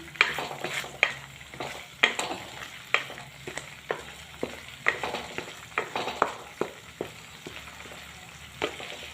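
Kasuri methi and coriander are stirred into a shahi paneer curry, with a spoon scraping the pan in regular taps about once a second over a faint sizzle, close by.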